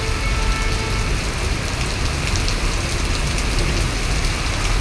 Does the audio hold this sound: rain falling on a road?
yes